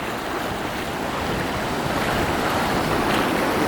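Ocean surf breaks continuously on the beach at Byron Bay, a dense, loud, steady wash of rushing water with wind noise and no voices.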